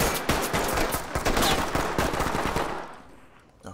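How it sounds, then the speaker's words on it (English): Rapid gunfire in the tactical shooter game Ready or Not, a dense, loud burst of automatic shots close by that fades out near the end, with no voices over it. "I think he might have been shooting from the window."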